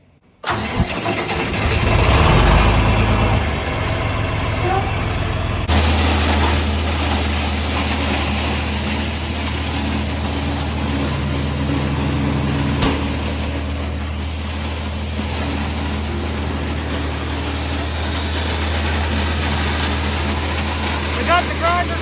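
Farm feed grinder for cattle starting up: a brief cranking burst, then the machine settles into a steady, loud mechanical drone with a sharper shift partway through, running on alone without talk.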